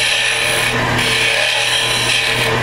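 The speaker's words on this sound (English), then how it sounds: "I'm going to hog as much wood out as I can at a proper speed." A woodturning lathe runs steadily as a tool hollows out a wooden ornament, producing a loud, continuous whirring scrape with no pauses.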